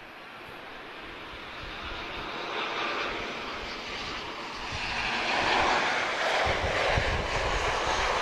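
A Pilatus PC-24 business jet on its takeoff run: steady broadband jet roar that swells gradually as the aircraft powers up, heard from a distance with no voices.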